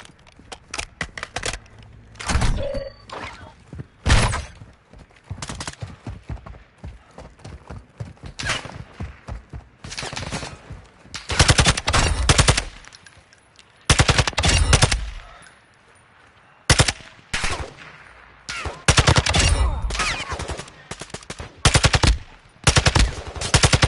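Call of Duty DMZ video game gunfire, loud close bursts of rapid shots broken by short pauses, with some distinct single shots scattered across the stretch and little talk.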